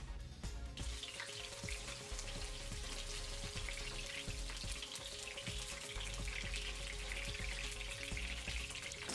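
Green onions sizzling in hot oil to make a flavored oil, a loud, dense, continuous crackle and hiss with fine popping throughout.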